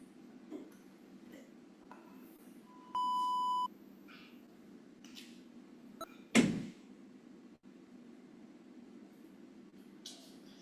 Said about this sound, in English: once you hear the beep, you can start your curls